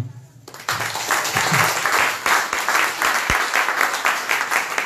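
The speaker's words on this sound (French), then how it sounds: "Applaudissez-lui." An audience in a church breaks into applause after a pause, a dense patter of many hands clapping with a few sharper claps mixed in, steady and fairly loud.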